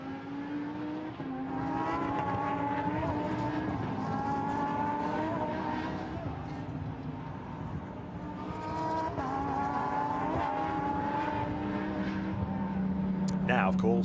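Lamborghini Super Trofeo race cars circulating behind a safety car at the Nürburgring, a steady engine drone with shifting pitch as cars pass and a brief tire squeal near the end, under continuous commentary.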